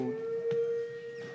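Outdoor siren wailing during a town zoning board meeting, a steady sustained tone heard from a distance through the room, with no one speaking.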